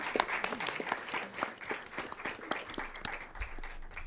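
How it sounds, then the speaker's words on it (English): Audience applause at an evening school board meeting honoring award-winning schools, a steady wash of many hands clapping at moderate distance, with a few sharper individual claps standing out and faint voices mixed in. "Let's give another round of applause to our Virginia Exemplar School Award honorees."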